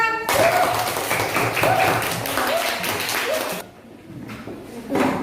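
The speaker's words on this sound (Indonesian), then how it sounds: "tepuk tangan untuk kelompok 6" Schoolchildren in a classroom clap for a presenting group, a dense burst of close hand claps that fades out near the end, with some voices underneath.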